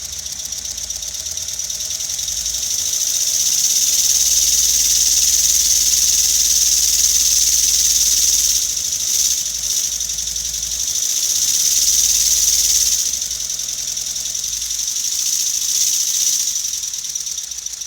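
A four-cylinder engine runs steadily on a test stand before shipping. It gives a loud, continuous drone with a faint knocking texture and eases slightly near the end. No one speaks.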